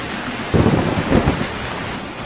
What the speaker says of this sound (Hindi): कुछ ही समय में तेज बारिश होने लगी